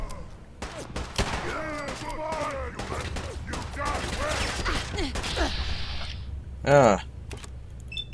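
A rifle gunshot in the video game Fallout 4 fired through a window, one sharp loud crack late in the clip, with speech and game ambience around it.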